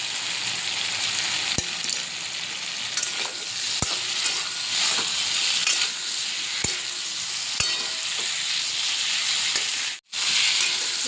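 Prawn masala with Kashmiri chili powder fries in a pan, a steady close sizzle broken by sharp, evenly spaced spatula clacks as it is stirred, then a brief cutoff near the end.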